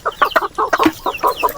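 Rooster on a small Philippine farm giving a run of short, repeated clucking calls, close and fairly loud, about six syllables in a quick uneven rhythm with no talk over it.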